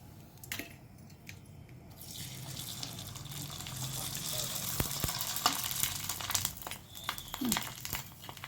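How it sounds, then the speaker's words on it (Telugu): Sun-dried sago vadiyalu fry in a small amount of oil with a steady, dense sizzle that swells from quiet to loud and holds, broken by a few sharp crackles and pops. "ఇలా తక్కువ నూనెనే పోసి వేయించుకోవాలండి"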